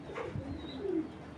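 A male racing pigeon, a high-class breeder cock, coos softly and briefly while held up close, a low gentle cooing with faint background noise.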